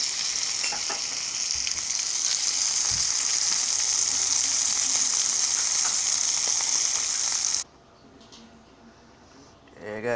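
Sausage for gravy fries loudly in a pan with a steady crackling sizzle, while light scraping and stirring taps break it into small pieces. The sizzle drops away abruptly near the end.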